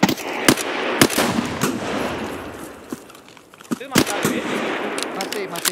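Gunfire from the video game Escape from Tarkov: sharp, loud single shots and short bursts with uneven gaps, mixed in with player voices talking over the action.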